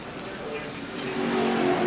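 A NASCAR stock car accelerating hard at Watkins Glen on a wet, rainy track in 1992, its engine note rising steadily and loudly over the course of the clip, with a voice talking over it.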